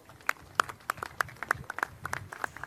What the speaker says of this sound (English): I want a big round of applause for the reigning IBF Super Bantamweight World Champion